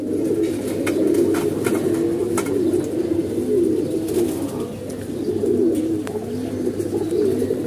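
A large flock of pigeons settles onto a loft perch, with steady, overlapping cooing close by, a few faint flutters of wings, and no one talking.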